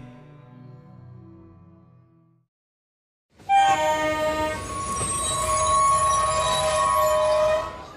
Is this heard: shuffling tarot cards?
no